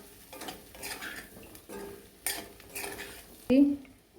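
Metal spatula scraping and clinking in a pan while egg bhurji with onion is stirred and mixed, a series of irregular scrapes and knocks ending in a sharp clang, faint sizzle underneath.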